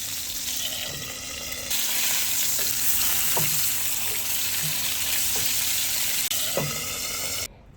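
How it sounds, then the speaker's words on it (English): A pork burger patty sizzles and fries in a hot pan. The sizzle is a steady close hiss with a few small pops and clicks. "I'm just going to fry it around it, but leave it raw in the middle"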